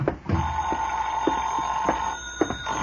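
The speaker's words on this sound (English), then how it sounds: "I went back to my room and the phone was ringing" An old-time radio telephone bell rings in sharp repeated bursts, a bright metallic trill pulsing steadily at close range with no talk over it.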